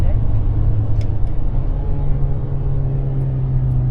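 A Ford Maverick Lobo sport truck's engine drones steadily from inside the cabin during a paddle-shift downshift, a loud continuous low rumble with a tonal hum and road noise, and someone speaks over it.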